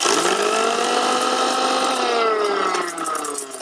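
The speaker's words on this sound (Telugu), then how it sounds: "ఇప్పుడు ఈ చల్లారిన గోంగూర అంతా మిక్సీ వేద్దాం." Electric mixer grinder whirring as it blends cooled gongura (sorrel) leaves into chutney, a loud steady motor drone with a pitch that sinks slightly as the load settles, continuous with no talking.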